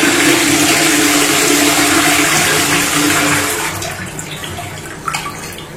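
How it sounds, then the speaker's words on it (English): A hotel toilet flushes with a loud, steady rush of water close by that gradually tapers off as the bowl drains, ending in a few gurgles. "Big flush."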